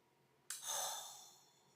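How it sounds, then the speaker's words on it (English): A single sharp sniff close to the microphone, breathing in the scent of a Bath & Body Works shower gel, rising suddenly and then tapering off. "But let me sniff."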